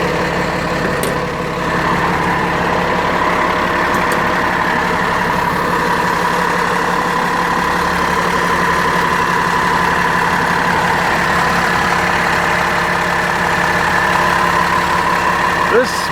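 Cummins ISL diesel, rated 300 horsepower, idling in a 2019 International rear-engine school bus: a steady, continuous low rumble with a mid-range drone, close and even throughout with no revving.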